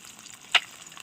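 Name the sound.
fish frying in oil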